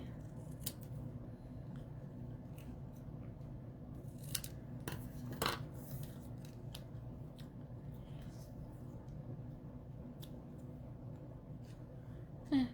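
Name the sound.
scissors trimming paper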